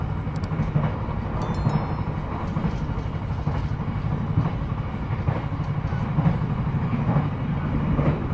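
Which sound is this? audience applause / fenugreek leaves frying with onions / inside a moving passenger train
inside a moving passenger train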